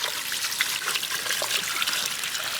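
Tap water runs steadily over green beans being washed, a constant close splashing trickle with no pauses.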